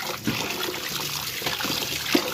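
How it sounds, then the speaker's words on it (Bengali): Tap water runs continuously while rohu fish is washed in a home kitchen for a mustard curry, a close, fairly loud splashing stream with brief bumps and a few splashes. "আমি ভালোভাবে মাছটা ধুয়ে নিই"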